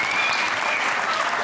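An audience applauds continuously at a comedy show, dense and even clapping at a steady level from start to end.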